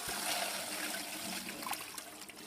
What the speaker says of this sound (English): get some water, clean the high banker out